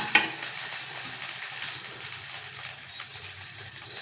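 Steady crackling sizzle of dried chillies frying in hot oil for tempering, close and continuous, with a sharp pop at the start.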